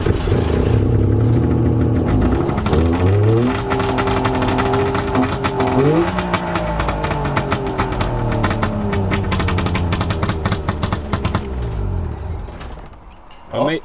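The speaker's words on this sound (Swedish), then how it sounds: "Mig personligen är det här bästa motorljudet ever." Saab 96 T Sport engine, still cold, revving up and down through several loud, close throttle swells with rising and falling tones, settling between blips, with a voice briefly underneath.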